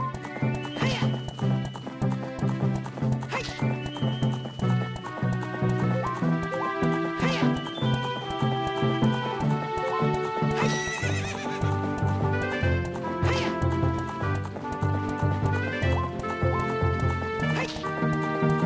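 A horse in Zelda Ocarina of Time 3D gallops with steady clip-clop hoofbeats and neighs several times over game music, loud and close throughout.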